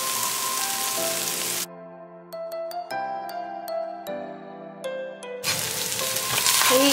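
Corned beef and cabbage sizzle and fry in a pan, a steady close hiss that drops away midway while a bright tonal chiming melody plays, then the frying returns loudly.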